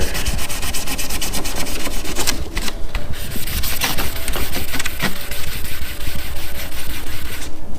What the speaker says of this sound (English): Red Scotch-Brite. Scuff all the edges.